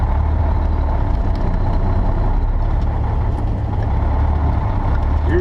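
Loud, close rumble of a semi truck's diesel engine as it goes into gear at a Flying J truck stop in Gillette, Wyoming, a steady heavy drone with little change.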